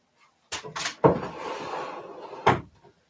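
A drawer in an art studio's storage unit slides open and shut, with a bump at the start, a sliding rumble, and a firm knock as it closes, close by and with no voices.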